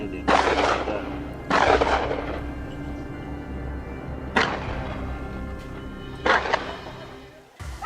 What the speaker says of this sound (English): I raised my gun and pulled the trigger decisively.